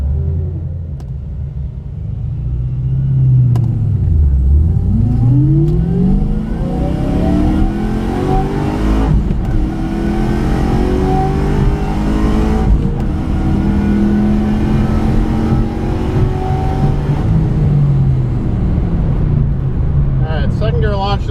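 A Pontiac G8 and a Chevrolet SS launch side by side at a drag strip, their engines roaring loud and close and sweeping up through the gears in rising whines before the sound fades slightly, with voices talking over the noise.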